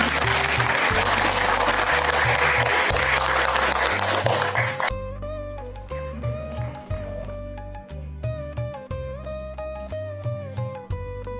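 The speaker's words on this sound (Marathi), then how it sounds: "कृपया सर्वांनी जोरदार टाळ्या वाजवून स्वागत करूया." Applause from an audience welcoming the dean at a retirement function: dense, steady clapping for about five seconds, then giving way to music with scattered light taps.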